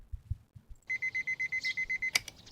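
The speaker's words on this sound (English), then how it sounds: "Shout out Naruto's alarm clock." An alarm clock in a Boruto anime episode beeps in a quick, even series of about a dozen bright electronic tones, clear and steady over low background noise, with a brief louder burst near the end.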